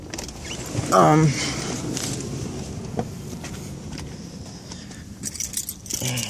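Metal keys jangle briefly near the start beside a 1994 Pontiac Firebird Trans Am GT, followed by faint rustling and small handling taps, with a voice heard briefly.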